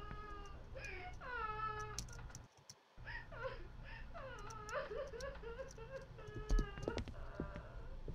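A cat meows repeatedly in drawn-out, wavering calls, some rising into a caterwaul, close and clear, with brief clicks and taps between the cries.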